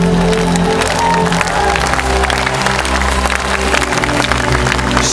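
Audience clapping along at a live worship concert, a steady dense wash of applause over loud band music and low bass, continuous and near.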